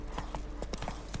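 A horse trots in The Witcher 3, quick rhythmic hoofbeats clopping close and clear for a brief stretch.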